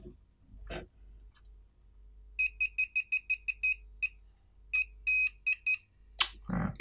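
Multimeter in continuity mode beeping while testing a Sony HT-CT60 soundbar, a rapid run of short sharp beeps followed by a few more bursts, with soft handling noises around them.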